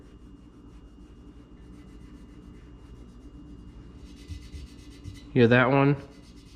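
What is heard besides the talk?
finger rubbing across grinder cut marks on metal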